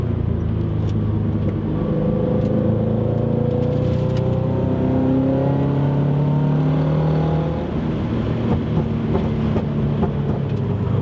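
Scion FR-S with suspension upgrades driving at a steady drone, engine note rising and falling continuously, with occasional faint sharp pops from the exhaust.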